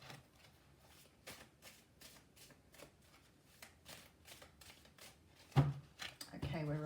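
Tarot cards being shuffled during a reading, a steady run of soft riffling bursts repeating roughly every half second, close and fairly quiet, ending in a louder clatter as the deck is squared.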